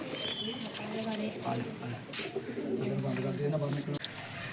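Pigeons coo in soft, repeated throaty calls close by, with a few faint background noises between them.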